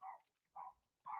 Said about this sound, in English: Can you guys hear the dog barking?